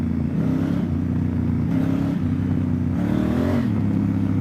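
A 2017 Honda Africa Twin motorcycle is ridden off-road on wet ground, its engine revving up and down in short bursts with shifting pitch, close and continuous.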